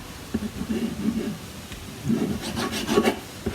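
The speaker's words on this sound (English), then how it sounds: "I'm going to bring in my envelope flap here and put Tombow all over the back panel" Tombow liquid glue being rubbed and spread across the back of a paper envelope flap, heard close as soft scraping strokes in two bursts with brief pauses between.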